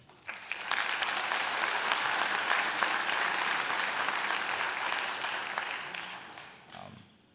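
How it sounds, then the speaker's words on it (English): Graduates at a college fall convocation burst into loud sustained applause, a dense wash of clapping from a large hall crowd that swells quickly, holds for several seconds, then fades away. "give yourselves a round of applause"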